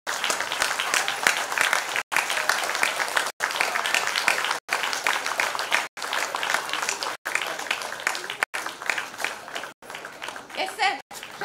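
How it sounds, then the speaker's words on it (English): An audience at a school annual day event gives a long, full round of applause, a dense and even wash of clapping broken by several brief gaps, with a faint voice near the end. "A big round of applause."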